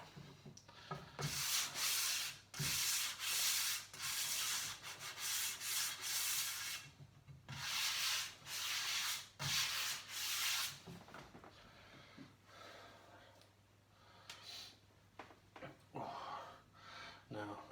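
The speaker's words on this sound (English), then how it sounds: "a little fine sanding" Fine sanding of wooden shelves by hand, a steady run of rasping back-and-forth strokes in close, even bursts with brief pauses between, some strokes shorter and lighter near the end.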